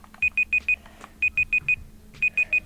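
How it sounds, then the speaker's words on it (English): A timer beeping in short bursts of four rapid electronic tones, each group repeated about once a second, loud and close over quiet room background. "but yeah, that's the timer"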